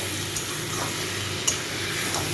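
Banana flower is stir-fried over a high flame, a steady close sizzle with scraping stirs and a light clack of the spatula on the pan.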